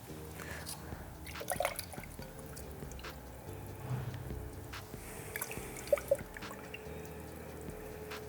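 Coffee brews through a Hario V60 Suiren pour-over dripper, with soft, irregular drips and trickles close by and faint low handling noise in the background.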